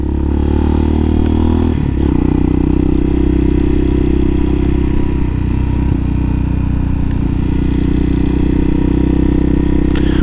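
A 2020 CSC TT-250 motorcycle is ridden through Fortuna, California, its loud, steady engine drone close and continuous, with a brief clunk and a stumble around a missed gear shift.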